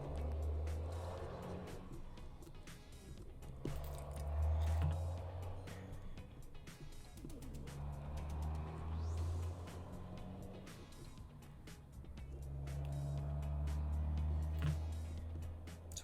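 Traffic on a busy thoroughfare passes near a parked motorhome, with cars and trucks swelling and fading in repeated low rumbling waves, moderately distant and steady.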